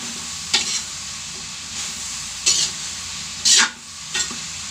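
Vegetables sautéing in a pan, a constant sizzle with four distinct spatula scrapes at irregular intervals, close and without speech.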